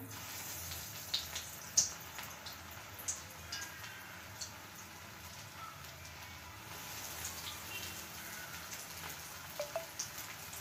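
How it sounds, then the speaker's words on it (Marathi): Crispy veg rolls deep-frying in hot oil on low flame, a soft continuous crackling fizz with scattered sharper pops and spits. "आपल्याला लो फ्लेमवर हे तळून घ्यायचे आहे। क्रिस्पी बनेपर्यंत।"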